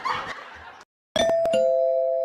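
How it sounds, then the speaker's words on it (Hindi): A doorbell rings in a home, one ding-dong chime with a sustained ringing tone that holds and fades slowly, following a moment of silence after muffled noise. "घंटी बजाया जा रहा है"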